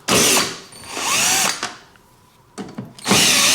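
A power drill drives out Phillips screws on a Hyundai Santa Fe rear hatch, loud whirring bursts in three separate runs with short pauses between them and no talking.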